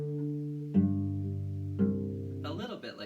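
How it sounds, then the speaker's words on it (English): Plucked cello strings in pizzicato ring out alone, with three separate deep plucks, each a sharp attack that decays slowly, the last followed by a quicker run of notes. "there are times, and many times, that we just pluck, and that is called pizzicato"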